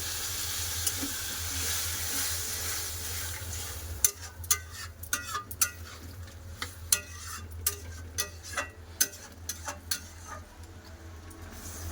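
Shrimp curry with ridge gourd simmering in a pan as water is added, a steady sizzle giving way to a run of sharp ladle scrapes and clinks against the pan, no voices.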